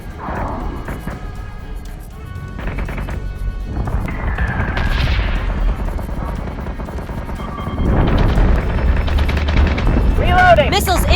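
Starship guns fire in the space battle game Battlestar Galactica Deadlock: heavy booming salvos and crashing impacts, growing louder and denser toward the end, with voices talking in between.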